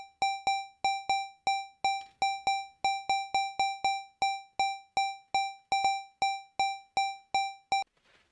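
Two layered rhythmic loops, a 3-in-32 and a 6-in-16 pattern, play together as crisp pitched electronic clicks in a steady interlocking pulse, about thirty sharp hits over eight seconds, alone and fairly loud.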